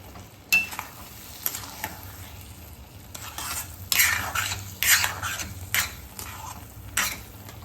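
Milk stirred into semolina in a pan over a low flame for a festival sweet, a spoon scraping in irregular strokes with soft sizzling underneath, close and moderately quiet, no talking.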